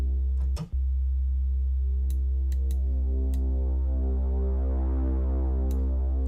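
Deep, buzzy sub-bass synth note held steadily with a brassy, rich harmonic tone, a brief click near the start and faint ticks scattered throughout.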